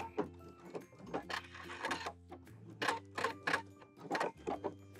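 A sewing machine stitches around the hem of a ruffled apron in quick bursts, its motor and needle chattering in short runs separated by brief pauses, close and fairly quiet with no talk.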